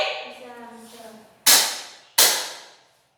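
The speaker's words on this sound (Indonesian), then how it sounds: "Berapa kali ceng-ceng itu berbunyi?" Balinese ceng-ceng cymbals struck twice, two sharp bright crashes each ringing out and decaying, coming after a voice speaking to children.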